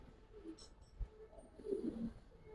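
A pair of pigeons in a fancy pigeon collection gives a couple of soft, low coos up close, brief and faint against a quiet background, with a small knock partway through.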